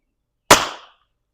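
A single sharp crack from a Beeman BP.50 chemical round fired at a black mask, a short bright burst that decays within half a second, alone with no talk around it.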